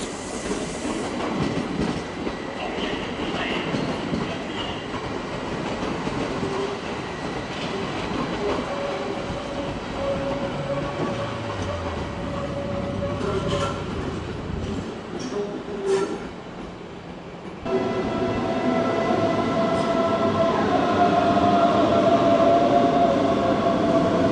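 A Stadler FLIRT (Stadtflirt) regional train moves through München Hauptbahnhof with a continuous rolling rumble, clattering wheels and drawn-out squealing tones, growing louder toward the end.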